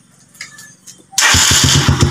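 A motorcycle with a newly replaced magneto oil seal and starter kit cranks briefly after quiet background sounds, then catches and starts, settling into a loud, close, rhythmic idle.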